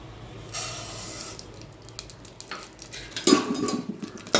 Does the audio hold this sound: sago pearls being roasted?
yes